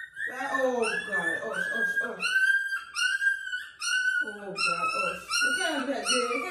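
A pit bull puppy whimpers and yips in high, drawn-out whines that come in repeated bursts close to the listener, with people talking over them.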